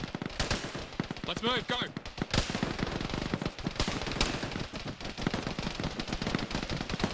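Rapid bursts of video-game gunfire rake an aluminum warehouse in sustained suppressive fire, dense automatic shots cracking continuously, with a voice shouting a brief command early on.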